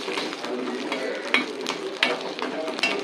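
Tempering spices poured into a dish of South Indian home cooking, giving a steady close sizzle and crackle with a few sharper pops, without talk.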